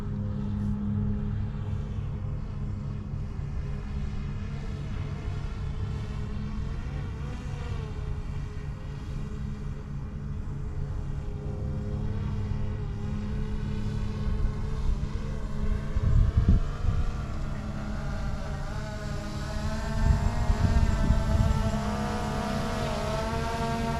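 A camera drone descends to land over the Legado planned community in Menifee, California, on a cloudy day, its steady rotor whine and hum running loud and continuous, with the pitch rising and shifting as it touches down.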